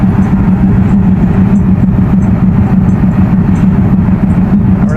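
The Nakshikatha Express to Khulna pulls out of Vanga railway station in Faridpur with a loud, close, continuous low rumble of engine and rolling cars that holds steady throughout.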